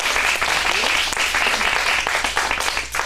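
Steady applause from an audience at an adult acting studio script showcase in Phoenix, with dense, even clapping that fills the whole stretch at close range.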